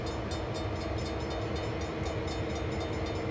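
Train Sim World locomotive cab on the Sand Patch Grade with windows open, a loud steady rail rumble and engine roar filling the space, with a faint rhythmic clatter of wheels over track joints and no voices.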